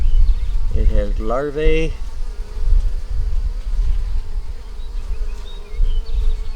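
Honeybees swarming around an opened hive with brood and larvae, a dense close buzzing with individual bees zipping past the microphone; a person speaks briefly over the hum.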